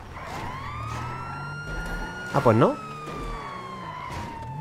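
A police car siren wails in GTA V, a steady rising and falling tone throughout, with a brief burst of warbling yelp in the middle while someone speaks Spanish over it.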